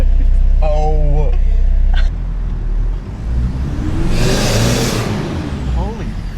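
A Toyota Hilux fitted with a compound turbo revs at low boost, the engine note climbing and swelling into a loud rushing whoosh before easing off, with excited voices around it.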